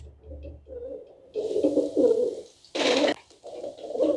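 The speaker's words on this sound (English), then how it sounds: "It is the sound of a guturgu, guturgu. Sound of a pigeon" A pigeon coos in soft, low, throaty phrases, repeated several times close by, with a brief rustling burst partway through.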